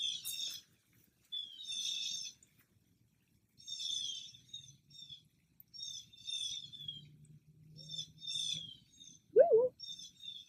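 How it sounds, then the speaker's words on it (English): Several birds chirp and call in bursts high overhead outdoors, a busy overlapping chatter with short pauses, joined by a low rumble and a brief louder squawk near the end. "War of the birds up there."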